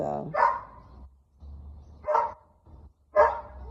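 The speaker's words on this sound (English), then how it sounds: "That dog is whimpering up there." A dog whimpers and gives three short yelping barks from some distance up above, spaced about a second apart in an otherwise quiet room.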